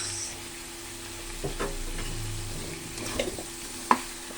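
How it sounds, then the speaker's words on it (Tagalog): Chicken sautéing in its own rendered oil in a pan, a steady low sizzle with occasional stirring clinks and scrapes, close by and alone without voices. "So, igigisa pa rin natin siya mga kapalangga sa sarili niyang mantika."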